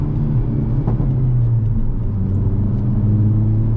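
A Hyundai Avante N with a manual gearbox holds its engine at a steady 3000 rpm, a loud, continuous low rumble with an even drone and no talk over it.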